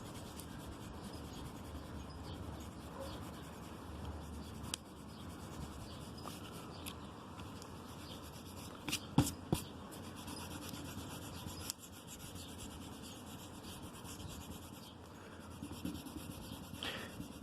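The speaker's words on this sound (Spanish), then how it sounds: "Recuerda que estamos haciendo ejercicio con lápiz de color." Colored pencil shades a sky over paper in a steady, soft scratching rub that continues for the whole stretch, close and quiet, with a few sharper taps of the pencil along the way.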